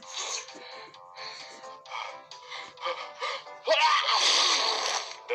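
A person sneezes repeatedly in a rapid series of explosive bursts, ending in a longer, louder fit of sneezing, close and loud with no other sounds.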